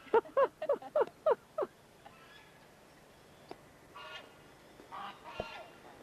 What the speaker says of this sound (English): Dat zijn de ganzen.